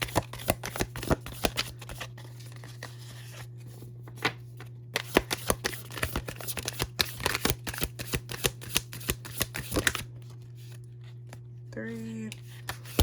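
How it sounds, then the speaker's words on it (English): Tarot cards are shuffled close up in a steady flurry of crisp riffling and snapping, with a few distinct cards drawn and laid down, while someone speaks softly throughout. "let's go ahead and start with 4 cards for you. Let's get 4 cards, please, for Aquarius."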